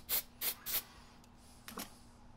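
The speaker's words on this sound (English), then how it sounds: "we'll spray a little activator on the piece here" Short spritzes of super glue activator hit the nut of a cigar box guitar, three quick close hisses in a row, then a brief pause and a fourth softer spray, with no talking.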